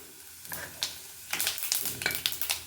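Mustard seeds and cumin hitting hot oil, crackling and popping in quick bursts that grow denser, close up with no talking.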